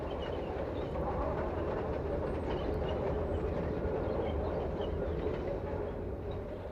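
A metre-gauge steam train on France's Vivarais Railway rolls steadily along, a continuous dense rumble of running gear and rail noise that stays near and even throughout, with no voices.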